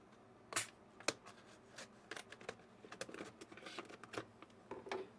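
Close, crisp snips of scissors cutting open a plastic yeast pack, with crinkling plastic rustles in irregular bursts and a few sharper clicks, in an otherwise quiet space.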